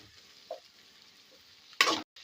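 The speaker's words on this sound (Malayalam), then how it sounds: "ഇനി സബോള നല്ലപോലെ വഴന്ന് വരട്ടെ" Sliced onions with salt sauté in a pan for pepper chicken, a faint low sizzle broken by a couple of soft taps and one louder burst of stirring near the end; no one speaks.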